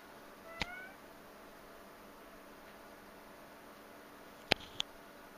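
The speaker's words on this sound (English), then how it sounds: "That is the cat, ladies and gentlemen, doing something in my room." A few short, sharp meows from a black cat pop out over a quiet hiss: one early, then two close together near the end.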